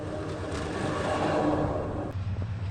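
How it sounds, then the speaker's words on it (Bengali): A train approaches along a rural railway line near Sreepur, a steady broad rumble that swells toward the middle and then thins, with no talking. "দৃষ্টিনন্দন একটি ট্রেন আসছে।"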